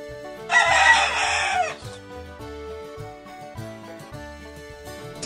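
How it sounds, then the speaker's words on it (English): A rooster crows once, loud and clear for about a second, over steady background music in a children's animal-sounds collection. "The chicken says,"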